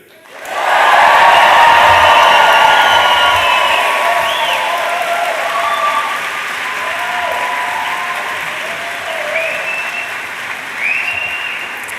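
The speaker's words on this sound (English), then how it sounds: "the biggest cheer we can have, please, for the class of 2024" Graduands at an autumn awards ceremony break into loud cheering, whoops and sustained applause that fills the hall, holding strong for several seconds and then easing into steady clapping with scattered shouts.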